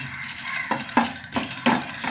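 Dried red chillies and fenugreek seeds roast in a pan, the spatula giving a few soft scraping stirs and light taps over a faint dry sizzle, close by.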